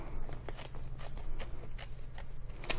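Scissors trim around a cut shape of thin Deco Soft vinyl, giving light, quick snips over a low steady hum.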